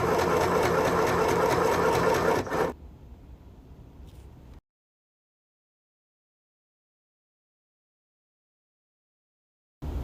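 A Stoigeld SM-725 sewing machine runs at speed while sewing a fabric purse, a loud steady motor whir for over two seconds. It then drops to a quieter hum and cuts to silence.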